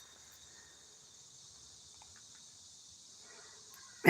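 Crickets and locusts chirp in a steady, continuous high buzz outdoors on a field trip, faint and even throughout, with a brief loud knock at the very end.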